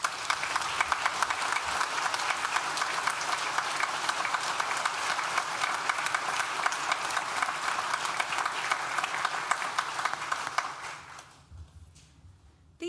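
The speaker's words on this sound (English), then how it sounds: "please join me in thanking them now with a well-deserved round of applause" Steady, dense applause fills a university graduation ceremony hall, a large crowd clapping continuously at moderate distance for about eleven seconds before fading out into room quiet.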